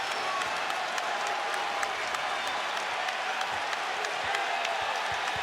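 A steady wash of applause and crowd cheering fills a basketball arena during an Orlando Magic vs Boston Celtics NBA playoff game, continuous and dense with scattered sharp claps.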